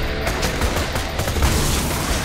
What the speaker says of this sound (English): I like using my submachine gun to get rid of these guys.